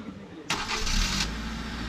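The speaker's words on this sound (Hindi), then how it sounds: "गाड़ी स्टार्ट हो गई है।" A 2023 Maruti Eeco caravan van's engine cranks briefly and catches, then settles into a close, steady idle rumble within about two seconds.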